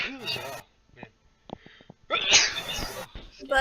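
A person sneezes twice, the second sneeze loud and drawn out, with brief talk before the first and quiet breaths between them.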